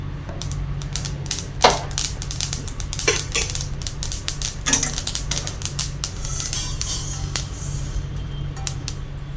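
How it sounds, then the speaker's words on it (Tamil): White sesame seeds dry-roast in a pan while being stirred, with rapid, irregular crackles, ticks and scraping clatter of the utensil over a low steady hum. "இது நம்ம நல்லா வறுத்துக்கலாம்."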